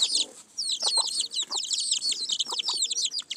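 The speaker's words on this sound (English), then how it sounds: "over here, I got a mama chicken." A flock of birds chirps busily and rapidly, with a mother hen's low clucks underneath, close and continuous; the hen has baby chicks.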